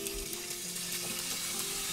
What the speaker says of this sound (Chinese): 因为油比较少，羊肉下锅后用筷子快速拨散，防止粘黏。